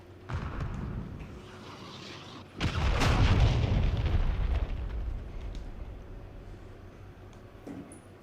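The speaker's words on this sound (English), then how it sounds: "Friendly cruise missile approaching target." A cruise missile strike in Call of Duty Modern Warfare III on the Departures map: a sudden heavy explosion erupts after a quieter stretch, then a loud rumbling roar holds and slowly fades over several seconds, with no talk.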